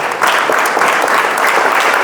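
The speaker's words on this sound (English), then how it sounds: "Give her an applause." A short, even burst of audience clapping for a participant at a teenage program session, filling the whole moment at close range with no speech.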